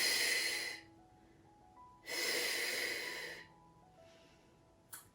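Slow breathing during a relaxation exercise: a long, loud, airy exhale, a quiet pause, then another full breath close to the mic, each breath stretched over a second or more.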